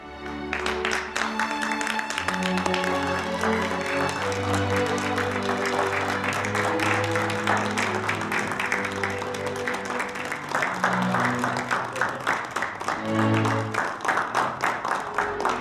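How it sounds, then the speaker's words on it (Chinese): A small official gathering in a Chinese drama greets a guest with warm applause: dense clapping runs steadily throughout beneath swelling background music. "那好，我们用热烈的掌声"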